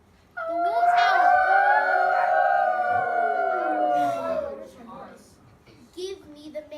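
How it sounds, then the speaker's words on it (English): Several wolves howl together in a pack chorus, long sliding wavering tones overlapping loudly for about four seconds, then fading into quieter murmurs and a brief sound near the end. "The wolves howled."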